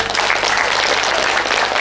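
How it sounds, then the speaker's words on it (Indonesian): Loud, dense audience applause at a school ceremony honoring top students, a brief burst of continuous clapping close to the listener with no speech over it. "Tepuk tangan."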